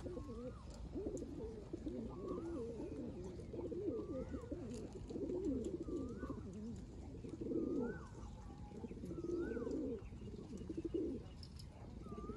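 Pigeons coo in a soft, repeated, rolling murmur, several birds overlapping at moderate distance against a steady low background hum, with occasional brief higher chirps.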